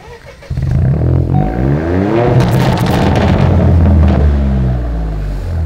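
A tuned 2021 Opel Corsa 1.2 PureTech engine (Stage 1) cranks and catches at about half a second, then runs with a throaty idle and brief revs, loud and close throughout.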